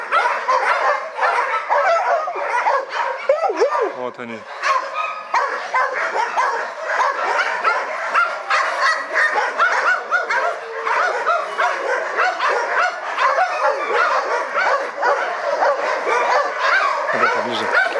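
Several dogs bark and yip excitedly in a continuous, overlapping chorus close by, with a person speaking briefly among them.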